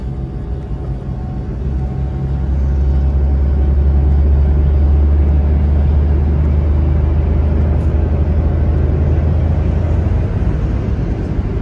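A Suzuki Alto 660cc small car driving fast on a road during a speed run, a loud, steady in-cabin engine drone and road rumble that swells slightly and holds without a break.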